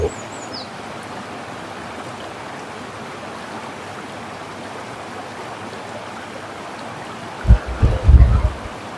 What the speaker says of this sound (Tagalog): Ang ganda ng agos na yan mga lods.